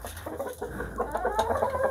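Japanese Shamo chickens clucking close by, a run of soft, irregular clucks and murmurs with no voices.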